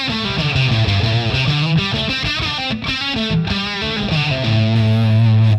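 An electric guitar runs through a Boss DS-1 distortion pedal with its tone knob at 2 o'clock, playing a loud, steady run of distorted notes and chords with a bright, slightly piercing edge, no voices.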